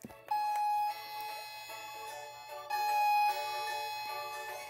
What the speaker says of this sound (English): Let me ring the doorbell.